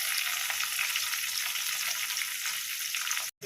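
Onion and tomato with ginger-garlic paste fry in a pan, giving a steady, close, bright sizzle that continues evenly and cuts off abruptly near the end.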